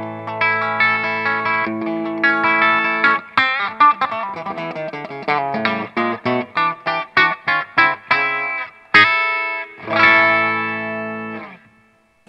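An electric guitar with Tom Holmes 455/450 pickups set out of phase plays distorted chords and quick picked notes, with a thin, hollow tone, strummed in bursts with short pauses.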